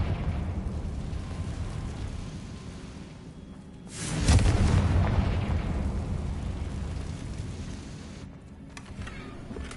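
A Confringo blasting spell erupts in Hogwarts Legacy, a loud rumbling burst rising sharply midway through and decaying slowly over a steady background of game ambience.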